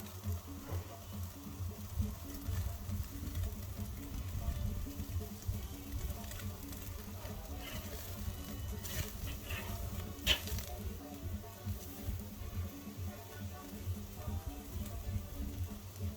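Steaks searing on a grill out on a deck give a steady, low crackling sizzle with faint popping, continuous and moderately quiet, with a few sharper clicks midway.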